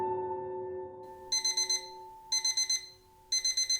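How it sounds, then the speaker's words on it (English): An alarm clock goes off in the morning with three bursts of rapid, bright beeping, each a quick run of four beeps, sounding moderately loud over a low steady hum. "I woke up the next morning as my alarm went off"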